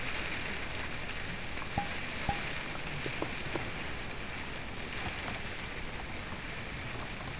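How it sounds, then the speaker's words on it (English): Steady rain falls in a VRChat game world, an even, hissing patter with a few faint sharp ticks, moderately loud and constant with no one talking. "There is the rain."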